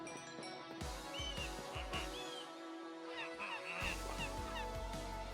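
Honking, goose-like bird calls repeat in a steady, busy stream close by, with other chirps and calls mixed in against constant background noise.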